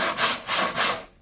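A handsaw cuts through a wooden board in three steady rasping strokes, close and distinct, each stroke a rough rhythmic rub that stops cleanly at the end.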